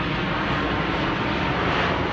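A fixed-wing airplane flying overhead makes a steady, broad roaring rumble, loud and constant throughout, with no talking over it.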